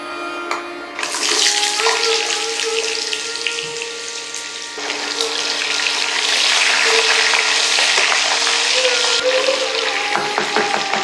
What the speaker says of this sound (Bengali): এবার এতে প্রথমে দিয়ে দিন আলু এবং তারপরে ফুলকপি